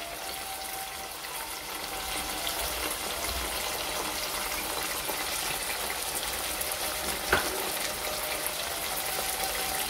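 Ginger garlic paste frying in a pan for tomato khatta soup, a dense continuous sizzle and bubbling hiss, steady and close with a single sharp knock near the end.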